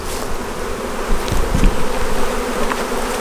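Honey bees buzz in a dense, continuous drone around an abandoned hive, loud and close, swelling briefly as individual insects pass near.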